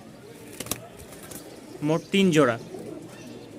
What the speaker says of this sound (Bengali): আমাদের এখানে চলে আসছে 2 জোড়া কবুতর,